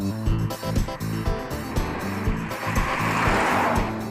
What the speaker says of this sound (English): Gearbox is quiet, diff's quiet. Yeah, engine's quiet. Rides along nice.